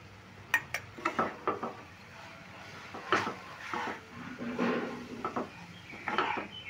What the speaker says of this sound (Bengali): ময়দাটা দিয়েও ভালো করে নেড়ে চেড়ে নিলাম।